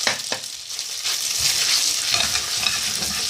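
Pasta with powdered sugar being stirred and sautéed in a hot pan for a winter sweet, a continuous close sizzle with scraping stir strokes, steady and fairly loud, no talking.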